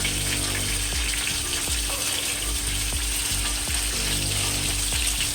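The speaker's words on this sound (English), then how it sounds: "you want the fish to fry properly, you know. You want it crispy." Butterfly snapper fish frying in hot oil until crispy, a dense continuous sizzle up close with a low mechanical rattle running underneath, no talking.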